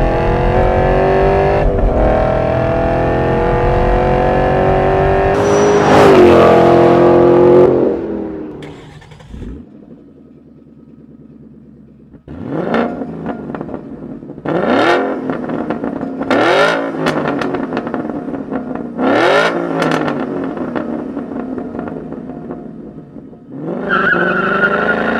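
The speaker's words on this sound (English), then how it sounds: "This exhaust is just like playing an instrument." A 2011 Mustang GT with a 5-liter V8 and Borla sport exhaust revs hard, loud throaty bursts rising and falling, then a lower idle burble followed by several sharp blips of the throttle.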